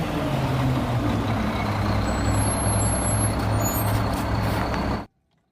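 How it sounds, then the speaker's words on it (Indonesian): A garbage truck's engine rumbling loudly and steadily at close range for about five seconds, then cutting off abruptly into silence. "Ini truk pengangkut sampah."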